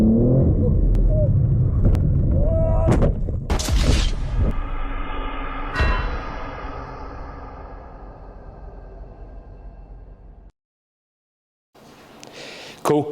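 A BMW M3 on the Snetterton racetrack sliding out, spinning and hitting the wall: engine roar and tyre noise, then sharp loud impact thumps around the crash, fading into quieter rattling and settling noise.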